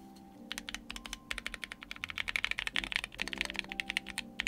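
Dense run of keystrokes typed on a KBDFans KBDPAD MKII keypad, sharp clacky presses in a quick uneven rhythm, close and clear with some case resonance, no talking.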